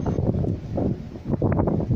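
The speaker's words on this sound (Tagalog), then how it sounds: "Mahirap mag-vlog ngayon, mga idol, dahil sobrang lalakas ng hangin" Strong wind in Taiwan during crab fishing from a PVC boat, buffeting the microphone in low rumbling gusts, steady and close, with faint rustling and no clear speech.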